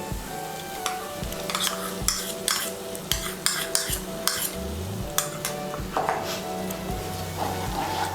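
Spiced masala for potol do pyaza (pointed gourd) with cashew paste and yogurt, stirred and fried in a pan: steady close sizzling with repeated scraping spoon strokes against the pan, no talking.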